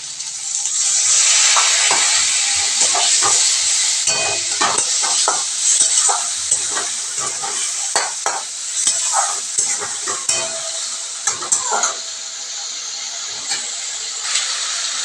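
Green chilies and water going into a simmering Bengali bata fish curry with potato and drumstick, hissing sizzle with repeated stirring scrapes and spoon knocks, loud and close.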